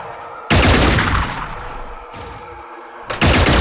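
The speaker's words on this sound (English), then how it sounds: "Gun reaction fire" Bursts of automatic gunfire from reaction fire in the turn-based strategy game Xenonauts, during a city-centre alien crash-site mission: three loud, close volleys, the first sustained, the others shorter, separated by brief quieter gaps.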